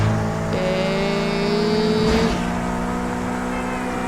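A car being driven fast and dangerously in the open-world video game Sleeping Dogs, its engine droning loud and steady with a rising whine and a brief burst of noise midway, no talk.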